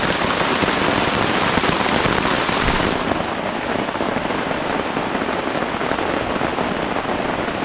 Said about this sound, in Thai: ฝนก็ตกลงมาอีกแล้ว